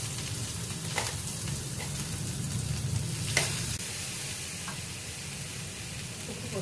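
Green gram sundal is stir-fried in a pan with a steady, close frying sizzle, broken by a few sharp clinks and scrapes of a spoon against the pan.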